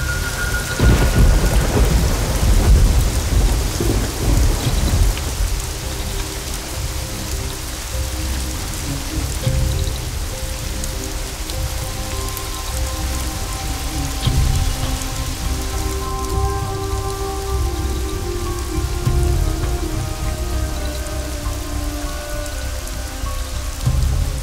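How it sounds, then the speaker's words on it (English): Heavy rain pours steadily throughout while low thunder rumbles and rolls in the distance, with no voices. "It's raining heavily here."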